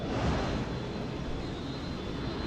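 A LEGO Star Wars spaceship engine drones while landing, a steady, fairly loud broadband roar that holds evenly for a couple of seconds with no talking.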